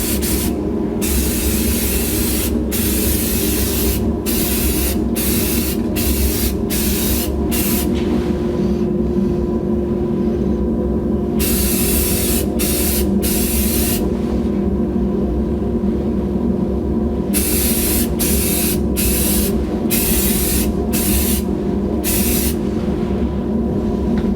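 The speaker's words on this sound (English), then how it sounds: "We'll start with 3 coats of primer." Spray can hissing steadily as primer coats go onto engine parts of a 1984 Jeep CJ7, a continuous close, loud spray with brief on-off breaks between passes and no talking.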